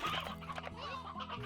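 Chickens in the video game Slime Rancher cluck in a busy overlapping chorus that runs steadily throughout, moderately quiet against a background game hum.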